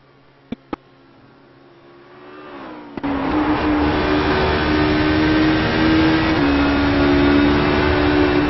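A Honda prototype race car at Road Atlanta starts after two sharp clicks, its engine climbing into a loud, steady high-pitched drone that holds close and continuous while driving.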